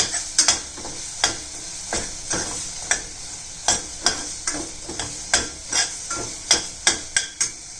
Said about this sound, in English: Add 1 tablespoon of coriander powder and again saute it for half minute.